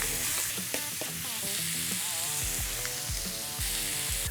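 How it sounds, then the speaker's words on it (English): Thin shaved ribeye fries hard in oil on a Blackstone griddle for a Philly cheesesteak, a loud, steady sizzle with scraping spatula strokes and metallic clacks throughout, no talking. "We wanna cook this thin shaved ribeye as quickly as possible."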